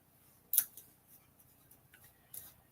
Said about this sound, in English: I'm going to cut out all of them at once